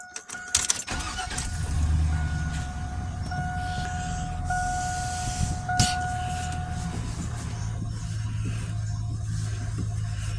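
A 2002 Chevrolet Silverado truck running after a steering gearbox replacement, its engine idling steadily up close, with a few clunks and a faint whine early on.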